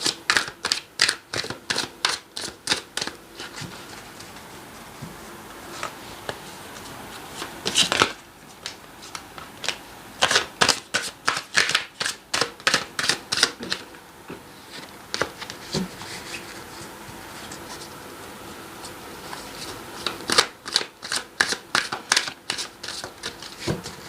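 Tarot cards are shuffled in repeated quick riffling bursts, close and crisp, with short pauses between rounds and no speech.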